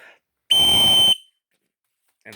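An emergency whistle from a budget Walmart shelter kit is blown once, a loud, piercing, steady shrill blast lasting about half a second, close up, with brief speech before and after.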